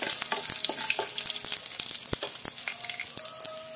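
A slit green chili frying in hot oil crackles and sizzles steadily, with sharp pops and spits throughout and a few utensil taps, close and fairly loud.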